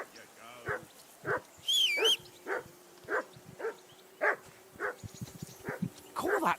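A dog in Kingdom Come: Deliverance 2 barks insistently at a regular pace, nearly two barks a second, with a brief high wavering tone and some voices in the background.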